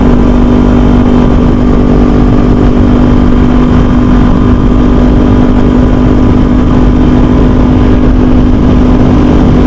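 A 2021 Kawasaki Z400 motorcycle engine runs steadily while riding, a loud continuous drone with a strong low hum and constant rumble throughout, no talking.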